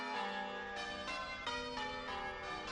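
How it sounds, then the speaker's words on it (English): Several church bells ring in overlapping succession, a bright, sustained peal with new strikes every fraction of a second, moderately loud and steady. "the only way to warn the city was by ringing the church bells"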